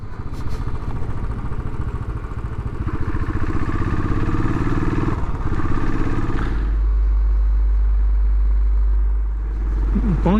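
A 2018 Royal Enfield Classic 500 single-cylinder motorcycle riding on open roads, its loud steady engine thrum and wind rush continuous throughout, shifting to a deeper low drone partway through.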